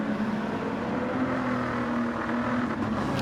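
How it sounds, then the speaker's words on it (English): Racing cars, a Toyota GR Supra and a Ford GT, drone steadily through a night race in a racing video game, with a constant engine whine holding at high revs. "So Pickle now in the GR Supra, looking to try and get onto the back of the Ford GT of Mawson ahead"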